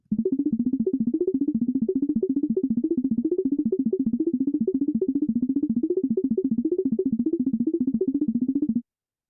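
A rapid, continuous stream of short electronic tones pulsing rhythmically at a steady pace, with the pitch wavering slightly up and down, then abruptly stopping.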